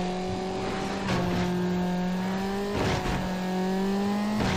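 Car engine in Need For Speed Underground racing along at a steady high drone, with brief surges of boost roaring up between gear changes.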